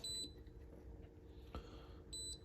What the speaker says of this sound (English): If I rotate it to max 100, it'll beep telling me that it just won't go any further.